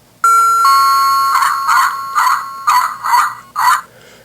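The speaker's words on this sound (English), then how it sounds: "this one has the working doorbell. Just simply press this little stud here" A toy doorbell on a LEGO Creator Hillside House chimes repeatedly, a bright electronic ding-dong melody in several close, clear pulses that fade out at the end.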